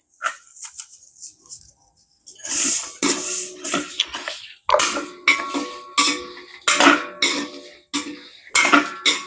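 Spices and cumin roast in a pan for Point Pedro-style curry powder, stirred in a steady run of loud, close scraping and clanking strokes roughly twice a second.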